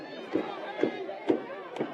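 York High fans in the visitor section of a high school football game against Central York, a crowd whose rhythmic shouts come in four regular bursts about half a second apart over low murmur.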